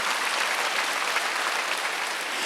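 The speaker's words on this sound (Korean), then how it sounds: "깨달았으면 세게 한번 박수 쳐보세요." Church congregation at a Korean Wednesday worship service applauding loudly and steadily, a dense continuous wash of hand claps from many people with no talk over it.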